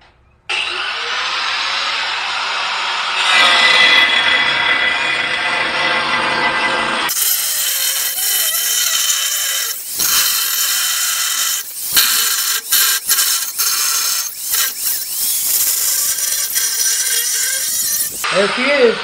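A fresh cut-off wheel grinds through a steel vehicle frame during a Z-cut job: a lower motor whir first, then a loud, harsh, screeching grind with short dips and breaks as the wheel bites and eases off the metal.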